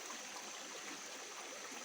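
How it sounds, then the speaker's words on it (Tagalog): Strong water rushes along the low end of a cornfield, a steady broadband wash with no breaks, faint and alone with no voices. "So dito sa bandang ibaba may tubig kasi malakas yung tubig dito banda, oh."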